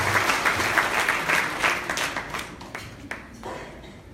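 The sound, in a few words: audience applause for Dr. Bryan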